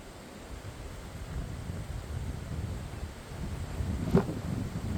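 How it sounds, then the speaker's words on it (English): Steady wind rushes across an open area of a bush trail in Monga National Park, New South Wales, a continuous broad roar buffeting the microphone and swelling slightly toward the end. "Of course the wind's picked up through here."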